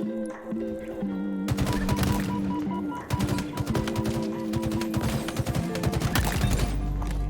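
Rapid bursts of automatic gunfire in Halo Infinite ranked multiplayer, dense overlapping volleys and single shots sounding loud and close across the whole stretch, with game music tones underneath.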